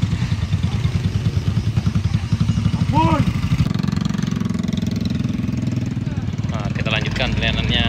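Motorcycle engine revving steadily on a road, loud and continuous with rising pitch sweeps, while people shout and talk over it throughout.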